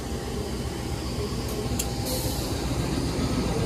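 A train hauled by a CC 201 locomotive stands at Madiun station after taking on water, ready to depart; a steady rumble of idling diesel and rail ambience fills the scene, with faint brief hisses.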